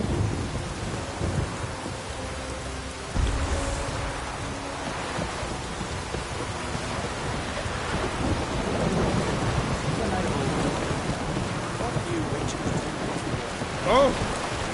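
Rain and thunder from a thunderstorm in The Witcher 3 video game, a steady wash of rainfall with low rumbles rolling through and a brighter crack near the end, heard alone without talk.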